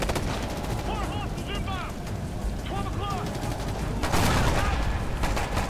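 Gunfire in Ghost Recon: Future Soldier, several rapid bursts of automatic weapon fire with sharp cracks, mixed with game effects and a heavier blast near the end, loud and steady.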